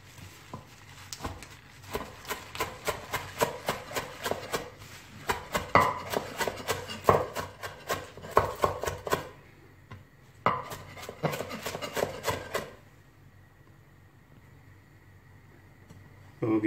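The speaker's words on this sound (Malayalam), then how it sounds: "പകുതി സ്പിനാച്ചിനെ നമുക്ക് ഇന്ന് അരിഞ്ഞെടുക്കാം." A knife chops spinach on a board in rapid, steady strokes for several seconds, pauses briefly, resumes for a shorter burst, then stops into near silence.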